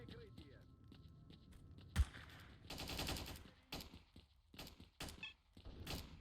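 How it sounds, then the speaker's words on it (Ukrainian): Gunfire in the S.T.A.L.K.E.R. video game: a sharp single shot, then bursts of rapid automatic fire and scattered shots at moderate distance, with someone talking over them. "А хто це стріляється?"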